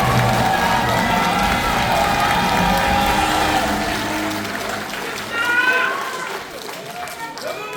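At a Democratic Party joint campaign rally in a convention hall in Chungbuk, a crowd cheers and applauds a candidate for the supreme council, the shouts and clapping mixed with voices over a loud hall.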